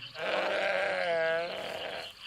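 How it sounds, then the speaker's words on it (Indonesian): A frightened, lost sheep bleats in one long, wavering, nasal cry that swells and trembles, close and fairly loud with no talk over it. "dari kejauhan ia bisa mendengar suara dombanya ketakutan"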